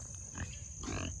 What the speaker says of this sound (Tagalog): Ayan, baboy ramo.